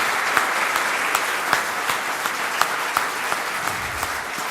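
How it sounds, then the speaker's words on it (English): An audience at a yoga and wellness talk breaks into sustained applause to welcome Swami Adhyatmananda, a full, even wash of clapping with scattered louder claps and a faint murmur near the end. "Let us welcome Pujya Swami Adhyatmanandji amidst a thunderous"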